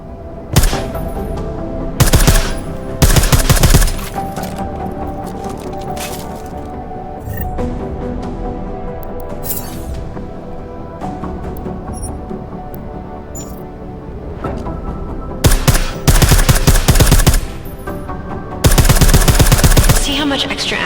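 Silenced weapons fire in Deus Ex: Mankind Divided comes in loud, rapid bursts over a steady game soundtrack, with several volleys spaced across the stretch.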